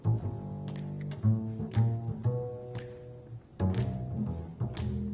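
A jazz bass plays a slow two-feel line of low notes, roughly two per bar, with some plucked, percussive attacks above.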